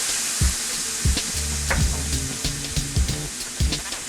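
Worcestershire sauce sizzles over medium heat in a pan of Cajun-style red sauce, a steady frying hiss with bubbling and repeated low thumps and scrapes of stirring close by.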